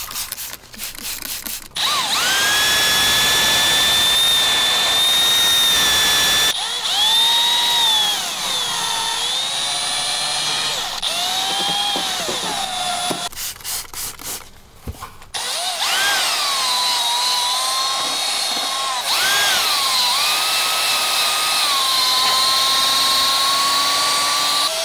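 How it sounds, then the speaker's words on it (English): A power drill spins a cleaning brush across a car interior, a loud steady whine that rises and falls in pitch as it loads and unloads, with a few short stops between runs. "The famous drill. Yeah, it's still going."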